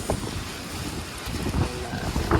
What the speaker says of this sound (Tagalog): So ito yung kalakas ng hangin.